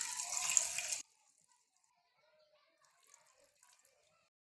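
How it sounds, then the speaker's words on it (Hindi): Water pours steadily into a cooking pot for chicken stock, a loud rushing splash lasting about a second before stopping abruptly, followed by near silence with faint clinks. "इसमें नॉर्मल पानी डाल देते हैं।"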